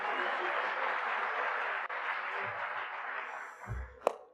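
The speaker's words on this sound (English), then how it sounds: "give yourselves a round of applause" An audience at a festival talk applauds, a dense wash of clapping that starts loud and gradually thins and fades, ending with a sharp knock.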